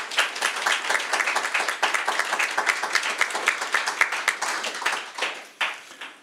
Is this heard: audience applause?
yes